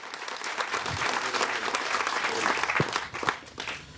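A large audience applauds the film team at a special screening of Kudumbasthan, with dense, sustained clapping that holds steady for the whole stretch and a few voices mixed into the crowd.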